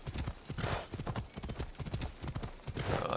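Galloping horse hooves clip-clop steadily while riding in Assassin's Creed Odyssey, with a brief whinny, the rhythmic thuds running through the whole stretch under occasional faint talk.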